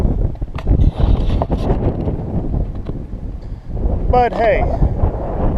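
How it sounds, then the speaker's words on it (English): Strong gusty wind of 20 to 30 miles an hour on a farm, buffeting the microphone in loud rushing bursts beneath someone talking throughout. "This wind has blown 20 to 30 miles an hour with gusts even higher"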